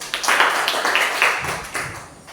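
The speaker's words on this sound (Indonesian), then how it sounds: "tepuk tangan untuk kelompok 1" Classroom applause during a mathematics lesson, a brief burst of scattered hand claps from students that tapers off after a couple of seconds.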